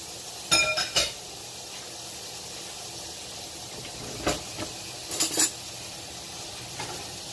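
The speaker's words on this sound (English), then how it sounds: "we're gonna put this, which is the beef sausage, and that fat in this pan" Beef sausage and fat cook in a pan under a soft, steady sizzle, broken by a few clinks and scrapes of a utensil against the pan.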